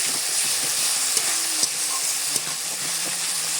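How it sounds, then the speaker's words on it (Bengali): Fried masala with cumin paste is stirred in a pan, a constant sizzle with light, repeated scraping strokes and a couple of faint clicks of the spoon; nobody speaks. "জিরে বাটাটা দিয়ে আমি আরও একটু নেড়ে চেড়ে নিচ্ছি"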